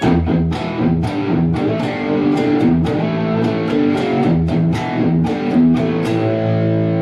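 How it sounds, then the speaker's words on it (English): A heavily distorted electric guitar plays a riff, loud and upfront, with a steady rhythmic chug of sustained chords and sharp picked accents repeating throughout. "then he does the riff again, distorted"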